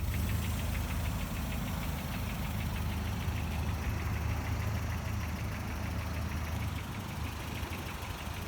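A 1989 Volvo 740 Turbo with intercooler idles steadily with a low, even rumble and faint rhythmic ticking, heard close with the hood up and no voices.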